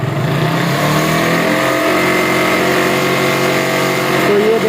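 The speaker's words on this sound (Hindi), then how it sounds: "ये देख सकते हैं मोटरसाइकिल को रेस दी हुई है" A Bajaj Pulsar motorcycle engine revved continuously up close, a loud steady drone with rising pitch near the end and no pauses.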